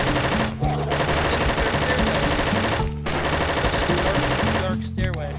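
Rapid, continuous automatic gunfire from a minigun in a robot-boss video game level, a dense rattling barrage that runs almost nonstop with a few brief pauses, loud and close.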